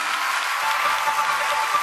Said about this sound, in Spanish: Aplauda a su Señor.